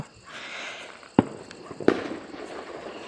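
Diwali firecrackers bursting outdoors, two sharp loud bangs about a second apart over faint background noise and shuffling footsteps.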